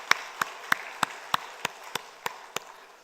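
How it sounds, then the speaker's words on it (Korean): A church congregation claps at a Sunday service in about ten sharp, evenly spaced beats that fade slightly toward the end, with no talk over them. "박수로 축복하겠습니다."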